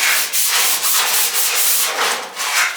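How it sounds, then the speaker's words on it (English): Rhythmic hand sanding of a Ford Escort Mk2 rally car body panel, a coarse scratchy rasp repeating in steady back-and-forth strokes, close and loud with no talking. "It's taken a long time sanding this down"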